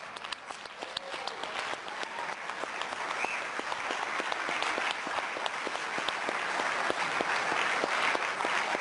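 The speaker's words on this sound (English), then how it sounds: "we've seen a few moments this evening where there was applause and then lighter applause and heavier applause" A crowd at the MESSENGER spacecraft Mercury orbit insertion event claps steadily, a dense, loud wash of applause that swells slightly and holds for about nine seconds with no voices over it.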